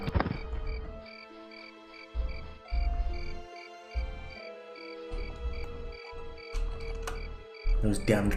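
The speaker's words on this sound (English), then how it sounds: "Those damned crickets have come back." Steady, rhythmic cricket chirping plays in the background of the Daggerfall Unity video game, high-pitched pulses repeating over low tonal game sounds and intermittent thumps.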